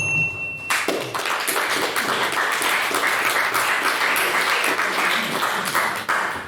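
After a short quiet lead-in, an audience bursts into sustained applause for the speakers at a debate on populism, thick steady clapping that carries on to the end.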